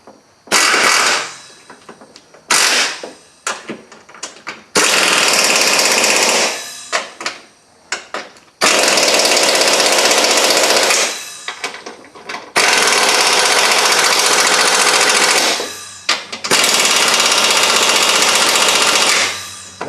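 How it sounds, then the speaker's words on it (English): A power tool runs in repeated bursts while it tightens the front strut bolts on a 2001 Buick Park Avenue. The bursts are loud, close and harsh, with short ratcheting stutters between longer sustained runs and brief pauses. "Just tighten these 3 bolts up again."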